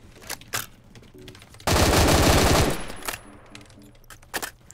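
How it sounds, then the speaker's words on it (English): Rapid M14 rifle fire in the Phantom Forces game, one loud burst of roughly a second with tightly packed shots, framed by quieter clicks and game sounds. "I love the recoil of this gun."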